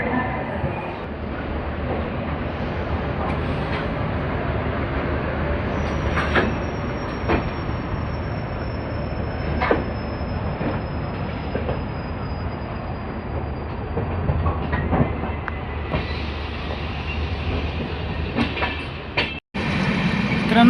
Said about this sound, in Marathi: एकदम वेळेत गाडी निघाली.